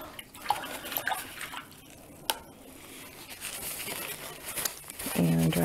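A paintbrush being rinsed in water during a button heart craft: soft sloshing, dripping and swishing sounds come and go, close and fairly faint, with a few sharp clicks and a brief low hum at the end.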